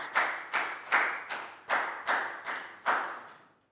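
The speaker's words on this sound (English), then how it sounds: "Big round of applause for Nadia, guys." Eight sharp claps at a steady, even pace, each a bright broadband snap fading quickly, from a Year 4 classroom celebrating a pupil during a health lesson; clear and fairly close with no talking.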